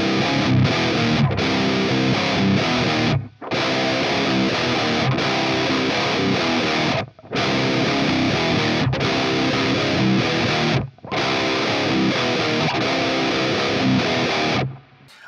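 Electric guitar played through a drive pedal in Amped plugins, switched on and off by an FBV controller, giving loud, continuous distorted strumming in long blocks broken by brief silent gaps.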